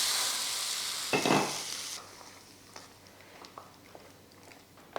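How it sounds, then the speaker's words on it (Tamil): Mustard seeds and curry leaves tempered in hot oil, a burst of loud spluttering crackle for about two seconds that dies down to scattered faint pops and ticks, with no voices. "நல்லா பொரிஞ்சதுமே நல்லா கடுகு போட்டு தாளித்து கூடவே கருவேப்பிலையும் போட்டுருவோம்"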